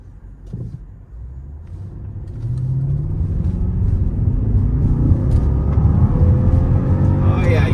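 A 2015 Jaguar XJL supercharged V8 accelerates in dynamic mode on a highway, its engine rumble rising steadily in pitch and loudness as it pulls through quicker gear shifts, heard from inside the cabin.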